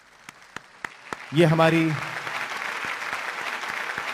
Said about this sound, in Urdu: بچی کے لیے مجھے تالیاں تھوڑی کم لگی ہیں۔